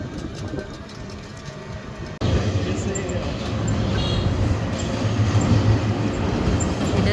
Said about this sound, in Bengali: জিএম লোকাল ট্রেন তিন তিন বগি